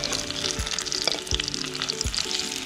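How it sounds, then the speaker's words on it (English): King George whiting shallow frying in oil in a pan: a close, steady, crackling sizzle with a few soft low knocks from the pan or utensil. "it's a shallow fry, and I didn't want to deep fry it"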